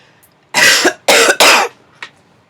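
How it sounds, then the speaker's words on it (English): Three sharp, close coughs from an adult in a quiet room, the second and third in quick succession, followed by a faint softer throat sound. "Apologies for the cough"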